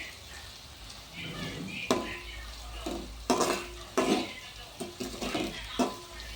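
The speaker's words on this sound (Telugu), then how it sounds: "వీటిని మరి కొంచెం సేపు ఆయిల్లో ఫ్రై చేసుకోవాలి ఒక టూ మినిట్స్ వరకు ఫ్రై చేసుకోవాలి" Brinjal pieces fry in oil in a pan, with a quiet sizzle and a series of sharp clinks and scrapes as a spoon stirs them against the metal.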